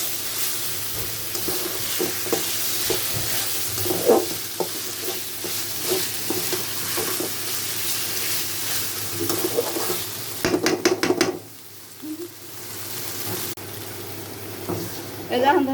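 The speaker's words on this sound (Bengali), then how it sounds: "এখন মশলাটাকে খুব ভালো করে ভাজা ভাজা করে নিতে হবে।" Spices with ginger and garlic sizzle and fry in a pan for a chicken liver and gizzard bhuna, with steady stirring scrapes throughout and a few brief clinks, close up, while a voice speaks at times.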